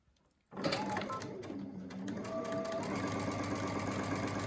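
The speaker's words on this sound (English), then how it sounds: "You will then take each of these sections on the round side and sew them together with a 1/4 inch seam." A sewing machine runs a 1/4 inch seam along the round edges of a surgical mask's pattern sections, starting abruptly after a brief near-silence and then whirring steadily and evenly with a fast mechanical rattle.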